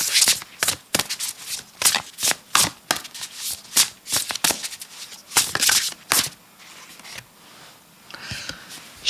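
A deck of tarot cards is shuffled by hand, a quick series of crisp riffling bursts and flicks close by, repeating in uneven clusters with short pauses between them and no talk over them.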